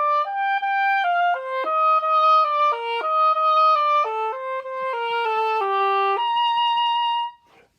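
An oboe plays a phrased melodic passage shaped by upbeat-to-downbeat emphasis, a string of clear, connected notes stepping up and down before a final held tone, heard close and alone.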